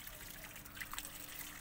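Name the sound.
watering seeds in a plant pot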